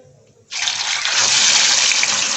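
Fish pieces drop into well-heated oil, setting off a sudden loud burst of hissing sizzle that holds steady and close after a quiet moment.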